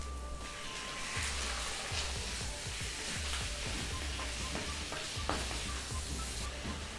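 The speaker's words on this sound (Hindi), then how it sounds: "इसमें चिकन डाल देते हैं।" Raw chicken pieces hit hot oil with well-browned garlic in a pan for Indian pepper chicken, a loud steady sizzle with hissing and stirring scrapes, no voices.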